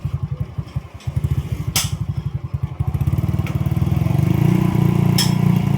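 Yamaha Mio MXI 125 scooter with a big radiator, its engine chugging in pulsing beats before revving up into a louder, sustained drone, close and loud, with a few sharp knocks and clicks.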